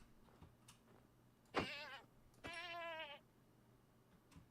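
Minecraft goat bleating in a snowy area, two wavering nasal bleats, a short one followed by a longer quavering call, fairly close over quiet game ambience.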